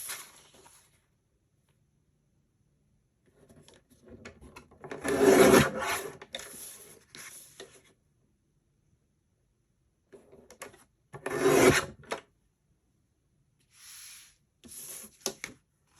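A sheet of 110-pound cardstock is cut down to size on a paper trimmer, giving a few separate rasping slides of the blade, two louder passes and shorter strokes between quiet gaps, close up with no talk.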